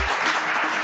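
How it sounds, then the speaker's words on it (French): Brief burst of dense applause from a crowd of National Front supporters at a political gathering, steady and close, lasting under a second. "Un franc-maçon applaudi par des frontistes, la scène est étonnante"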